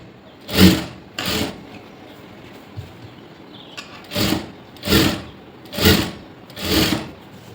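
A sewing machine stitches a blouse in six short separate bursts, each a brief close whirring run with quiet gaps between them.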